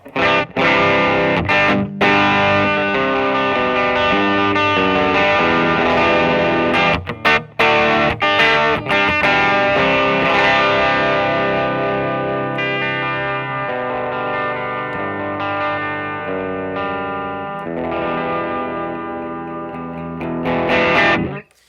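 An electric guitar through a germanium overdrive pedal (Walrus Audio Voyager MkII) with mid cut on plays loud, continuous chords and riffs with a thick, compressed crunch, ringing out alone without any talking.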